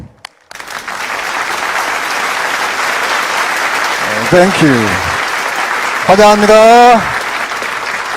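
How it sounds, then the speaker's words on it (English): Sustained applause from a large audience at the Rally of Hope, a big public rally in Korea, steady and loud throughout, with an announcer's amplified voice speaking briefly over it in greetings. "Let us give a big round of applause."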